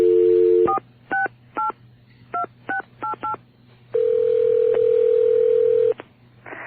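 A telephone is dialed: a two-tone dial tone cuts off, then about eight short touch-tone beeps sound in an uneven rhythm, followed by a steady two-second ring tone, all clear and close over a low hum.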